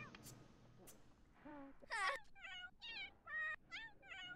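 A cat in The Sims 4 meows several times in a row, short rising and falling cries in close succession with a brief strained wail among them, up close and clear.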